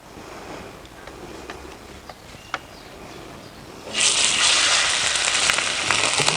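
Steak hits hot olive oil in a wood-fired oven with a sudden loud, bright sizzle that holds steady, preceded by a few faint ticks and crackles from the embers.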